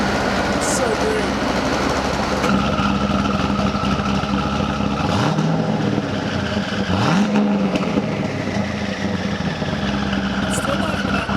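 A 1,200whp twin-turbo Corvette Z06 runs in quiet mode, a subdued steady engine drone with two brief revs rising and falling in pitch, while people talk over it.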